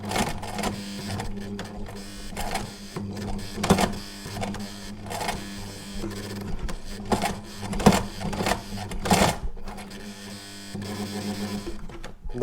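An electric sewing machine stitches nylon seat straps together for a DIY helmet mount, running in steady mechanical bursts with short pauses and restarts across the clip, close up.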